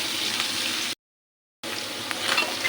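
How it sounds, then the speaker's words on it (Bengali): Onions frying in a pan with green chilies for a curry, a steady close hiss of sizzling oil broken by a short silent gap, with occasional crackles and stirring. "ভালো করে ভেজে নেব"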